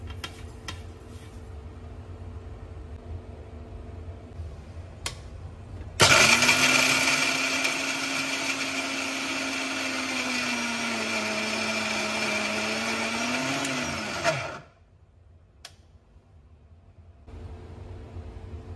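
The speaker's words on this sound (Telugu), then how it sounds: "ఇవి చల్లారాక మిక్సీ జార్లోకి తీసుకొని మెత్తగా గ్రైండ్ చేసుకోవాలి" An electric mixer grinder whirs loudly for about eight seconds, grinding cooled fried cucumber chutney ingredients, starting sharply with a steady motor hum and winding down before quiet returns.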